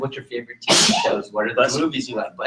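A single sharp sneeze bursts out in the middle of ongoing conversation, with people talking right before and after it.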